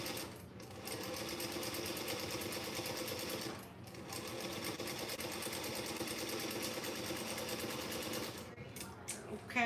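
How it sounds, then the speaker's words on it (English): A sewing machine quilts fabric directly onto batting, running in a steady, fast mechanical whir with brief pauses near four seconds and again near the end, close and continuous, with faint background voices. "I'm just sewing this directly to a piece of batting and like quilting it, like tiny quilting it"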